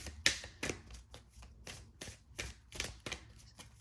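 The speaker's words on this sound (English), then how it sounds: "Let me give this a good shuffle." Tarot cards being shuffled by hand in a series of quick riffles and soft slaps, irregular bursts up close with short pauses between them.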